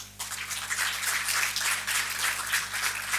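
An audience at a business conclave applauds to welcome a professor to the dais, a sustained, dense round of clapping that swells quickly and holds steady throughout.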